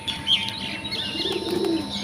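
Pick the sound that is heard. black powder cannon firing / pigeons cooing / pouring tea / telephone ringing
pigeons cooing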